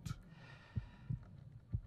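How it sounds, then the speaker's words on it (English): A heartbeat pounds in the horror video game I'm Counting to 6, slow muffled low thumps repeating about every third of a second to half second over a faint dark hum, with no talk. "Feel your heart pounding."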